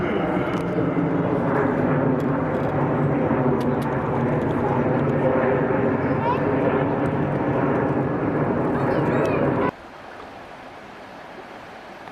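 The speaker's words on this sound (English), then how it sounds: "There's another plane going over." A steady broadband roar of an airplane passing overhead on a trail near a waterfall in Cramond, Scotland, loud and continuous, with faint water noise beneath; it cuts off abruptly near the end, leaving quieter ambience.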